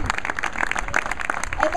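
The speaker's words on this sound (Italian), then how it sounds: "Un applauso" Audience applause at an arts event at Gazzi Spazio Arte, honoring the director of the Conservatorio Corelli: a steady, fairly close patter of many hands clapping for the whole stretch, with voices murmuring underneath.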